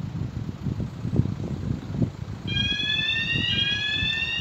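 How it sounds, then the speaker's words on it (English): Warning alarm of the Tomnahurich swing bridge in Inverness, a loud steady multi-tone electronic wail that starts midway over a low rumble of outdoor traffic and wind and holds to the end. "And then they activate the alarm again, but it's lifting up, it doesn't need the alarm again."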